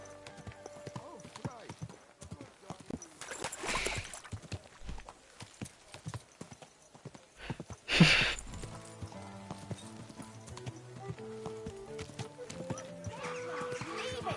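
Horse hooves clop steadily amid background music and movement, with a sharp burst of noise partway through; a faint whinny may be heard.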